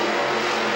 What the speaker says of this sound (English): He's going to fire that engine one more time and let him hear it.